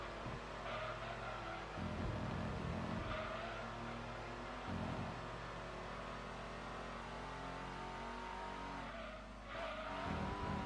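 Ford Mondeo BTCC touring car in a racing game, its engine droning loud and steady with rising revs, gear changes and brief throttle lifts, plus faint tyre noise.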